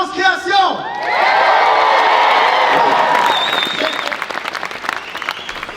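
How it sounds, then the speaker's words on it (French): An audience at an influencer creators' gala in Québec bursts into loud applause with cheering and whoops, following a host's brief spoken introduction. The clapping and shouts are dense and close, then ease off toward the end. "veuillez applaudir chaleureusement"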